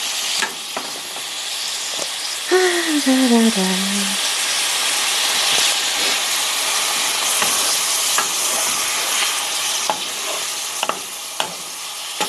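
Chicken for a Vietnamese ragu cooking in a hot pan, a loud continuous sizzle with stirring scrapes and clinks throughout, plus a brief descending tonal squeal partway through, no talking.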